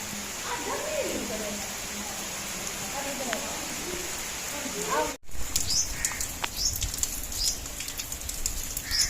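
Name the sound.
rain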